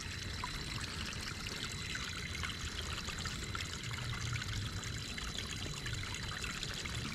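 Water pours and trickles steadily into a TRX4m RC truck trailer, a continuous soft stream heard close up with no voices.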